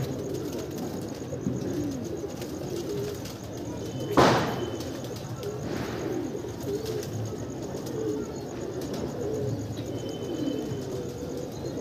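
Pigeons coo softly over a low outdoor hum, with a sharp knock or flap partway through and faint chirps around it.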